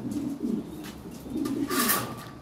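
Lahori Shirazi pigeons coo in soft, low rolling phrases on a pigeon farm, several overlapping calls close by, with a brief brighter chirp or rustle near the end.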